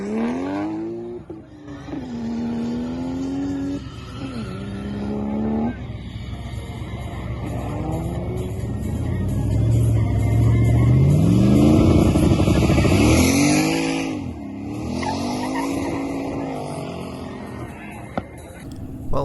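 A turbocharged LS-swapped Fox body car drifts at a drift competition, its engine revving and rising in pitch through repeated throttle bursts, loud and close, with tire noise and people talking underneath.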